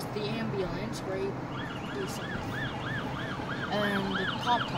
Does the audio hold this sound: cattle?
no